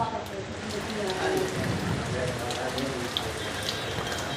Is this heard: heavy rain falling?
yes